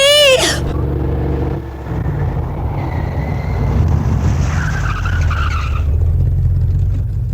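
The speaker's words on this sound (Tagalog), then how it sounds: "Para! Taxi!" A taxi car pulling up, loud and close, with a tyre skid and a steady engine rumble that carries on to the end; a brief whistle-like tone sounds at the start.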